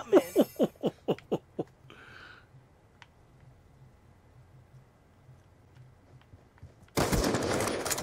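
Rapid gunfire from Call of Duty Black Ops 2: a burst of about seven sharp, evenly spaced shots opens, then a brief whoosh and sparse faint ticks, before a loud dense wash of noise erupts near the end.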